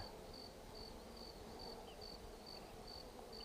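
Honey bees swarm around a newly hived colony, giving a steady, close buzzing drone that holds evenly throughout with no voices.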